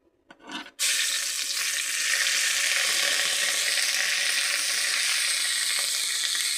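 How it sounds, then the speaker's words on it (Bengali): Ginger and cumin seeds frying in a hot pan: after a short muffled knock, a loud, dense sizzle starts abruptly and holds steady to the end, with no talking. "এবার দিয়ে দেবো আদা,"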